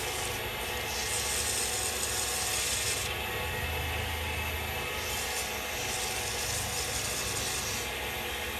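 Micro mesh abrasive rubs wet against a pen blank spinning on a lathe, a steady close rasping hiss with a continuous low motor hum, unbroken for the whole stretch.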